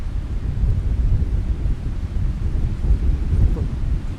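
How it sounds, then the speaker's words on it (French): Strong Mistral wind blowing by the sea near Marseille, a continuous deep roaring rumble buffeting an outstretched microphone, steady and loud throughout with gusty surges. "J'espère qu'on entendra le vent."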